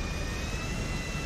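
An aircraft engine in the video game GTA 5 gives a steady roaring whine with a constant high tone over a heavy low rumble, loud and continuous with no talk.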